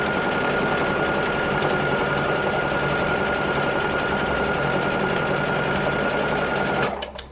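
A sewing machine runs continuously, stitching rows of ten-inch layer-cake quilt squares, a steady close mechanical whir and rapid needle patter that stops abruptly near the end.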